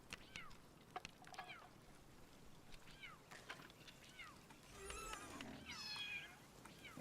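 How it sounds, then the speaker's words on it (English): A cat Pal in the video game Palworld meows repeatedly, a string of short rising and falling cries spread across the stretch, set against a low game ambience with a swell of water-like noise partway through. "That cat that won't shut up is about to have a really bad time."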